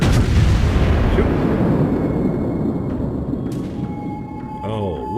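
A warship's main guns fire in World of Warships, a heavy booming blast that opens the moment and rolls away into a long rumbling decay, with faint game tones and chirps toward the end.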